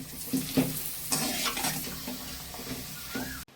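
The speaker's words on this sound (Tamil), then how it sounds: "இந்த அப்பளத்தை வறுத்து வச்சுக்கலாம்." Appalam papad sizzles and crackles steadily in hot oil, with occasional stirring scrapes. The frying hiss continues throughout until it cuts off abruptly at the end.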